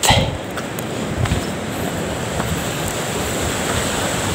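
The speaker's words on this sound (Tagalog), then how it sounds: "Ito na yung dagat." Sea waves wash steadily against the shore at Maragondon in Cavite, a continuous broad rushing surf with some wind buffeting the microphone.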